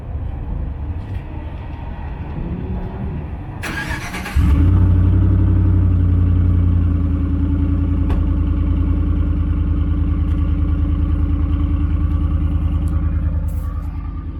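Cold start of a straight-piped 2012 Chevy Silverado single cab with a 4.8 V8: a starter whir, then a sudden loud rumble that settles into a deep, steady, raspy idle close by.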